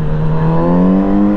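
A Kawasaki Z900 RS motorcycle engine holds a loud, steady, close rev, its deep even drone running unbroken for a second and a half with no talk over it.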